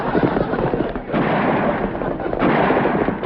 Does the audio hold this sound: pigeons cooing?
no